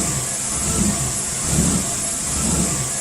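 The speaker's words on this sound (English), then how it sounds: "I'm gonna play you guys a quick video of what the engine sounded like at idle" A truck engine idles roughly, a steady low mechanical rumble with slight uneven surges in level, heard up close and alone with no talking.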